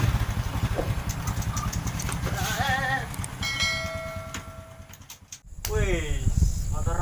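A motorcycle engine idles with a low, steady rumble, heard nearby under people talking.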